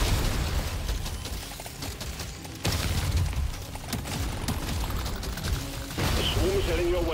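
Explosions in the video game Deep Rock Galactic Survivor come as a dense, continuous barrage of booms and crackling bursts, with a couple of sharp jumps in loudness and chiming pickup tones near the end.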